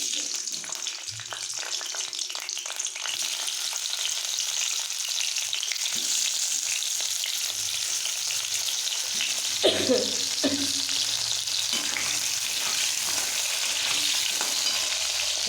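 Boiled potatoes fry in oil for a jackfruit curry, a continuous close sizzle with occasional stirring scrapes and clinks of a utensil against the pan.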